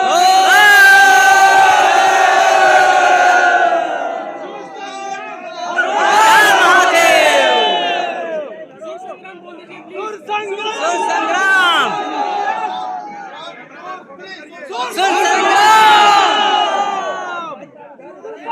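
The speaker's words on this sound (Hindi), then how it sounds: "देखिए गाइस कितना भीड़ लगा हुआ है सब।" Large crowd at a Sur Sangram singing audition in Gorakhpur: many voices shout and cheer together in loud rising waves, with murmured chatter between the bursts.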